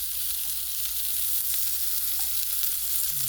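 Baby zucchini saute in hot olive oil, a steady bright sizzle that holds evenly throughout with faint occasional stirring, close and continuous without any talking.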